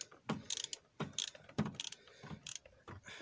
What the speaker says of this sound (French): Il faut en faire des tours hein, pour le dévisser ça.